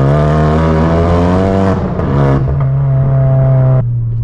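French sports car accelerating hard from inside the cabin, a loud steady engine drone with strong harmonics that drops as it shifts gear, then climbs again under sustained throttle.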